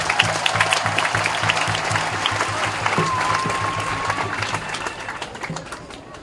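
Steady applause from an audience, many hands clapping continuously while a low rhythmic thump and a faint held tone sit underneath.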